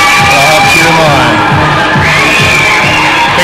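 A junior hockey arena crowd roars and chants steadily for the Avalanche, loud and sustained, with a rhythmic pulsing pattern of clapping or stomping running through the noise.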